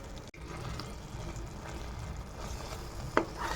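Paneer garlic curry being stirred in a pan, a soft steady scrape and sizzle running throughout at low level, with one brief sharper clink near the end and no talking.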